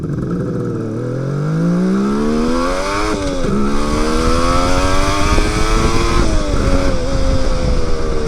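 Suzuki GT550 two-stroke triple motorcycle revs up close and loud, its engine pitch climbing in long sweeps with brief drops between pulls, buzzing continuously with no voices.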